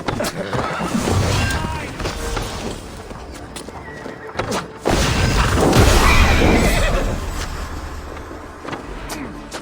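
Horses whinny loudly during a battle at the Siege of Paris in the video game Assassin's Creed Valhalla, their neighs mixed with hoof clatter, clashing combat noise and bursts of voices.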